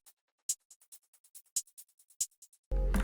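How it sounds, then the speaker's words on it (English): Two hi-hat samples from the Lone drum kit, played one after the other as a run of about twenty crisp, close ticks in an uneven pattern with a few louder accents, ending in a burst of dense broadband noise. "I start from 2 hi-hats right there."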